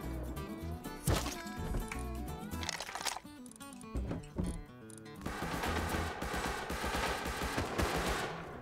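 Gunfire in the survival video game Rust: bursts of rapid and single shots over a dense, continuous game soundscape, loud and busy through the whole stretch.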